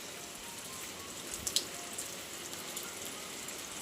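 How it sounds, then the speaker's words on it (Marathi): Rain falls steadily near the sea in a village, making a soft continuous hiss with a few brief drip-like ticks near the middle. "आवाज येतो ना पावसाचा"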